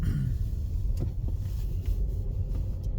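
A car drives on an icy road through an industrial area, its low engine rumble and tire noise steady and close throughout, with a few faint clicks and knocks from inside the cabin.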